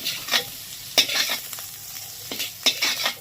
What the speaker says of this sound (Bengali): চিংড়ি মাছগুলো পুরো ভাজা হয়ে গেছে এবার এটাকে তুলে নেবো